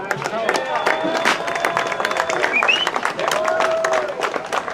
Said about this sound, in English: Big shout out and cheer for Lloyd Warren.